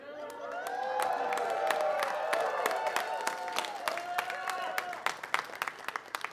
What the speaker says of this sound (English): thank you for applauding when Salsa holds up the applause sign